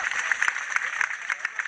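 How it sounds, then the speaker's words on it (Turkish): Crowd clapping for wrestlers Serhat Gökmen and Ali Gökçen at a Sındırgı, Balıkesir oil wrestling ground, a dense steady patter of many hands with sharper bursts standing out, heard alone without voices. "Bu anlamda Serhat Gökmen ve Ali Gökçen'i şöyle coşkuyla alkışlıyoruz."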